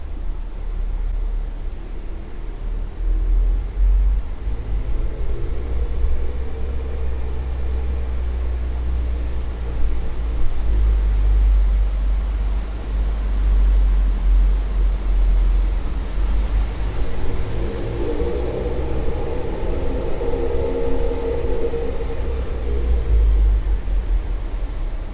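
A car tuned with a Versatuner Stage 2 tune and bolt-on upgrades drives steadily, its engine a deep, continuous rumble with wind and road noise swelling and easing as it accelerates, with no talk.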